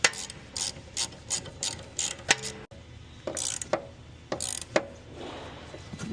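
A ratchet tightens a coilover bolt on a Nissan G37x in short bursts of rapid clicking, with pauses and a few sharper metallic clicks between strokes, close up with no speech.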